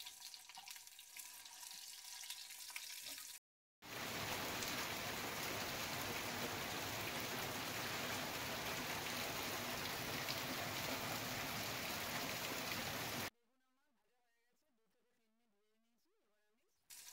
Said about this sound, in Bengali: এবার আমি বেগুনগুলো ছেড়ে দিচ্ছি।